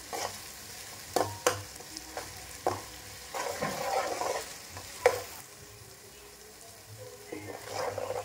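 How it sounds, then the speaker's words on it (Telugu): Ginger garlic paste for an Indian chicken curry fries in a pan, sizzling steadily while a spoon scrapes and taps at irregular intervals, close and moderately quiet. "ఇది కూడా బాగా వేగేంత వరకు కలుపుకోవాలి"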